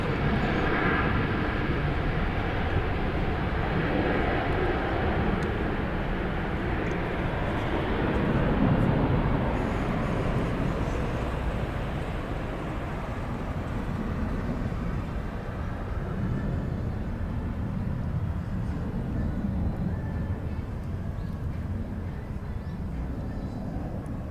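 A Shandong Airlines Boeing 737 departs Seoul Incheon Airport for Qingdao, a loud broadband jet roar that swells around the middle and then slowly fades as it climbs away.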